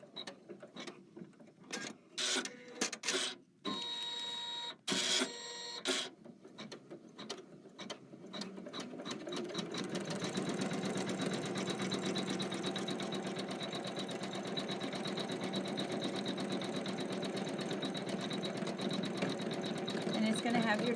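An embroidery machine stitches small three-petaled flowers, starting with irregular clicks and short bursts, then settling into a steady rapid mechanical stitching hum, with a person talking over parts of it.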